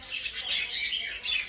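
Pet budgies squawk and chirp nearby in quick overlapping bursts at moderate loudness, with no one speaking over them.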